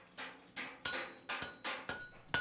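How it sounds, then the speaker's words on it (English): Hand hammer blows shaping copper in a copper kettle workshop, seven sharp metallic strikes at a steady, even rhythm, each ringing briefly before the next, close and clear with no talk. "The hammer strikes actually harden or temper the metal."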